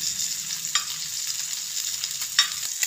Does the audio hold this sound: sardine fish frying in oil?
yes